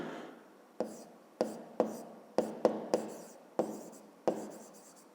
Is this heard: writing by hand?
yes